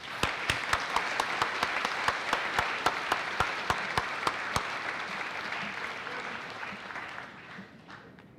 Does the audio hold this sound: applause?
yes